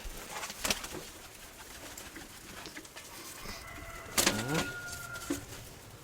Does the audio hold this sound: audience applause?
no